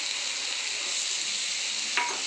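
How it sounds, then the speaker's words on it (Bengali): Ginger garlic paste frying in a pan with cumin and onions, a continuous close hiss of sizzling oil with one brief scrape near the end. "এবার দিয়ে দেবো আদা রসুন পেস্ট বাটা,"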